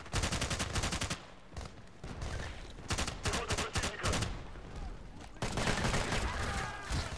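Bursts of pistol and assault rifle gunfire in the video game Battlefield Play4free come as rapid volleys of shots separated by short pauses, loud and close, with a voice briefly heard between the bursts.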